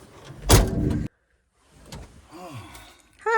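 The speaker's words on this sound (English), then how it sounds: "Should I close the door?" Truck door slammed shut with a single sharp, loud thud, followed by a sudden silence and then quiet voices talking inside the cab.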